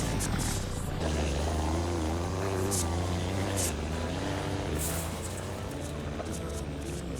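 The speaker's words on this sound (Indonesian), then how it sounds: "suara mesinnya juga beda dari Mercy pada umumnya" A Mercedes car engine running steadily at close range, a continuous droning hum with shifting pitch and a loud, constant level throughout.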